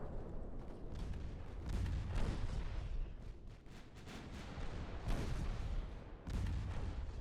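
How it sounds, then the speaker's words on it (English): Warship main guns fire in the naval game Ultimate Admiral Dreadnoughts, a series of heavy rumbling booms that overlap into a dense, continuous barrage with a few sharper blasts standing out. "Have all the main guns fire at that guy."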